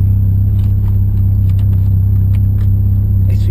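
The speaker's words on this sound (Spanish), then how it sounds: "Bueno, ahí prendí el auto." A Renault Megane Cabriolet with the F7R engine idles steadily, a loud, even low hum with no change in pitch throughout.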